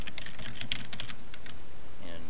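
Computer keyboard keys clack in quick irregular bursts as calendar names are typed into Google Calendar, close and crisp, with a short pause near the end and a brief voice at the close.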